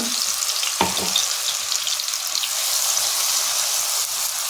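Paste of onion, green chili, garlic and ginger dropped into hot oil in a pan, a dense, loud, continuous sizzle with a short splash of crackle near the start.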